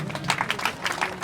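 Audience applause at a tribute gathering, a brief burst of many hands clapping close by with an uneven rhythm and no talk over it.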